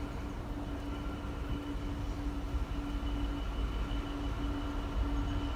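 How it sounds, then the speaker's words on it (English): A steady low rumble of a container train rolling past at close range at Gainsborough Lea Road, with a sustained mechanical drone and constant broadband noise throughout. "this will be a container train on Doncaster to Felixstowe"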